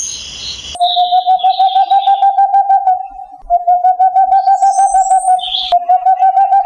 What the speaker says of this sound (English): Tawny Owl, Strix aluco.